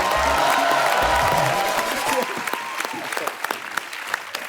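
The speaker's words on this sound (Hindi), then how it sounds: "एक बार जोरदार तालियां" Studio audience applause on a Hindi television show, a dense wash of clapping with scattered sharp individual claps, loud and steady throughout, with faint voices mixed in at the start.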